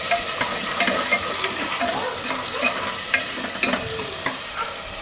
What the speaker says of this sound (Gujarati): ટમેટા નાખીને થોડીક વાર ફેરવી લેવાનું